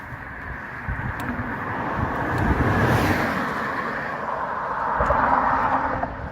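Cars on a road by a bridge in Coos Bay, Oregon pass in a steady stream, with broad rushing swells peaking twice as vehicles go by close, plus some wind buffeting the microphone.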